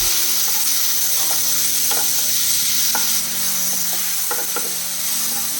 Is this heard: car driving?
no